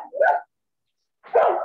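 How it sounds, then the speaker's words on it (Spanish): Dogs bark in two loud, close bursts, a sharp yappy bark followed by a gap of silence and then a longer, rougher round of barking, with no talk over them. "Ya ve, profe, ya se enojaron los perritos."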